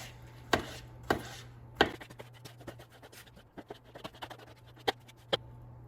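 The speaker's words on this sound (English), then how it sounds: "So first, I'm going to slice the mushrooms" A knife slices mushrooms against a cutting board: a few loud, spaced strikes, then a run of quicker, lighter cuts, close up with no talking.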